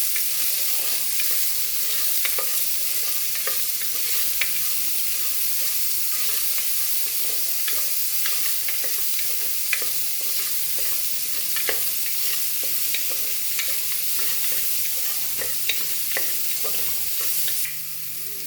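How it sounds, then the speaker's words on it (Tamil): Soya chunks frying with salt in a pan: a continuous close sizzle and hiss with faint, scattered stirring scrapes throughout, no voices. "இந்த சோயா போட்டு இதில் ஃப்ரை பண்ணுங்கள் இதில் கொஞ்சம் உப்பு போட்டு நல்லா ஃப்ரை பண்ணுங்கள்"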